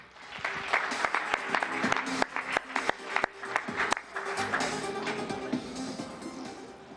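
Audience applause at an awards ceremony, a dense close wash of many hands clapping with sharp individual claps standing out, swelling and then fading toward the end.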